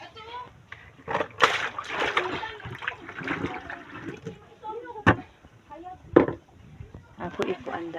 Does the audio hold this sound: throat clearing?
no